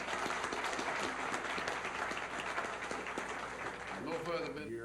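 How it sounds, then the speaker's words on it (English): Applause from an assembled meeting crowd as committees break for recess, a dense steady wash of clapping that holds for several seconds before tailing off with some voices at the end. "Round of applause."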